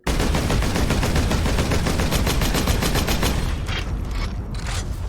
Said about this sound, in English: some weapons actually sound different when they're low on ammo to tell you that you need to reload soon